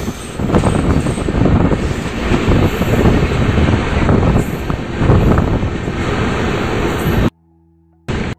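Passenger train on the North Eastern Railway running through dense forest between Bihar and Uttar Pradesh, a loud continuous rumble and rattle of wheels on rails with heavy wind buffeting the microphone, cutting out abruptly near the end.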